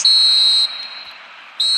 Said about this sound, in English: there is the half-time whistle